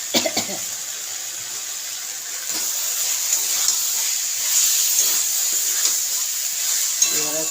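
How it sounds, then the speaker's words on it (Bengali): Boiled potatoes and peas being fried with spices in a pan for ghugni give off a steady, close sizzle with occasional stirring scrapes that grow slightly louder midway. "এবারে কষে নিচ্ছি ভালো করে"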